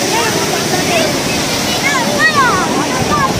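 Sea waves wash onto Marina Beach in Chennai as a steady, broad roar of surf and wind close by, with faint voices and birdlike whistles scattered through it.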